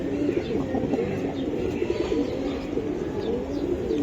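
Several giribaz pigeons at a pigeon sale coo continuously, a dense, close layer of soft throaty coos with faint chirps above, steady throughout with no talk.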